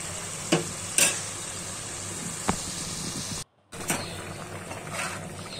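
Pieces of rui fish fry in a thick spice paste in a pan, a steady close sizzle broken by a few sharp scraping stir knocks and one brief cut-out.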